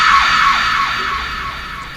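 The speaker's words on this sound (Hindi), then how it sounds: "आकर वो बहुत तेज़ चीखती है, बहुत तेज़ वो चीखती है।" A woman ghost in a horror video game lets out a loud, sustained high-pitched scream that wavers and slowly fades over two seconds, heard alone without talk.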